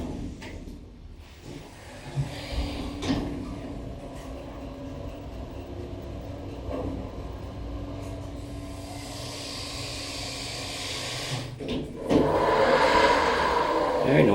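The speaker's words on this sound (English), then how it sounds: "Very noisy doors, but if you haven't noticed, this is another crossway chassis." Noisy elevator doors with a two-speed telescoping mechanism on a crossway chassis at the University of Western Australia rattle and rumble as they slide open and shut, with a clunk near the start and a louder grinding surge at the end.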